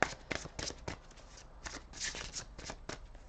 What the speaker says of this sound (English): So right now I'm gonna shuffle a little bit more, and we will pull 2 more cards from this wonderful Gilded Tarot deck.